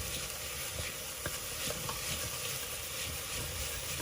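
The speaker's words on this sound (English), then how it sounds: "I'm at this stage also going to pop in my pine nuts as well. And with the chopsticks, I'll just give it a nice stir." Pine nuts sizzle steadily in a hot pan for sang choy bao, with soft scraping taps as chopsticks stir them, a continuous close frying hiss with no talk.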